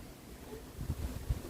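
Strong wind blows outdoors on a rainy day in the Netherlands, buffeting the microphone with low rumbling gusts that swell and thump near the end.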